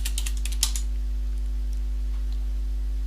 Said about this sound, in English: Now I need to type in the password.